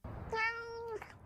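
A single drawn-out cat meow, clear and fairly close, with a bright harmonic tone lasting about half a second amid quiet room noise.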